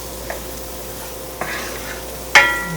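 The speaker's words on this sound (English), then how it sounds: "I'm gonna let the butter get all melted together and brown up these mushrooms" Mushrooms brown in melted butter in a pan, giving a soft steady sizzle with a few stirring scrapes and a sharper clatter near the end, close by with no talking.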